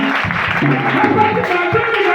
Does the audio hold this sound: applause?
yes